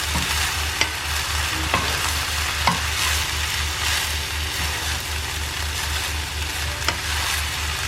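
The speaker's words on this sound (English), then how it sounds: "Now we have to gently stir it." Leftover rice with red chili, tomato and onion is gently stirred in a frying pan for kebab rice, giving a steady close sizzle with occasional spatula knocks over a constant low hum.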